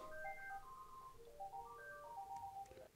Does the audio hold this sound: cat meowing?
no